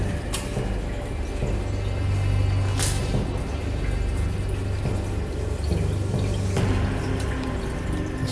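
Water flowing steadily in an underground tunnel of a former factory, with a constant low trickling rush and a few sharper drips or splashes rising above it.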